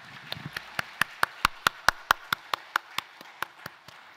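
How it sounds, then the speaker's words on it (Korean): Rhythmic, evenly spaced claps ring out in a Korean church Sunday service, about seventeen sharp strokes in steady unison, moderately loud in a reverberant hall with no talk over them. "영광의 박수 올려드리겠습니다"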